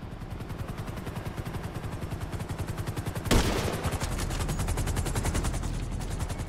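Automatic gunfire in GTA Online, rapid evenly spaced shots rattling on without pause, broken midway by one sharp, louder crack before the steady burst resumes.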